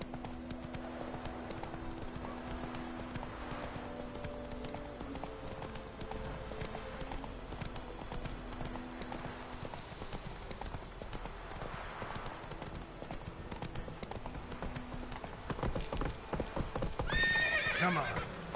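A horse in The Witcher video game clip-clops steadily at a brisk pace throughout, with whinnies and snorts breaking in over continuous hoofbeats, ending with a louder close burst.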